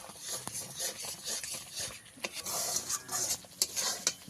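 A spatula stirs and scrapes a thick ripe-jackfruit candy mixture in a pan over low heat, making soft irregular scrapes and faint sizzling that stay quiet and close.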